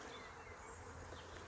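A swarm of bees buzzes around a swarm box, giving a dense, continuous hum that is steady and faint throughout.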